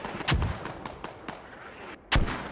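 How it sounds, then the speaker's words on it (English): Mortar fire in a squad-based military shooter game: two heavy booming blasts, one early and one near the end, with fainter distant thumps and rumble between them. "I can hear them firing. Yeah, they've got mortars."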